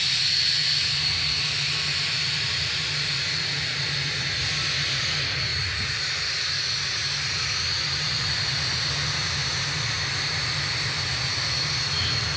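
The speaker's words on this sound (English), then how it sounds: "The engines are going to be shutting down on XB-1 for the final time" Boom XB-1 supersonic jet engines running steadily, a loud continuous roar and whine held throughout without any speech.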